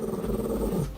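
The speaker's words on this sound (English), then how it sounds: "Bandit keeps staring up and growling at something it perceives as a threat in an otherwise quiet, normal-looking room" A dog gives a low, rumbling growl at a perceived threat in a quiet indoor room, a single sustained snarl close by and moderately loud with no voices.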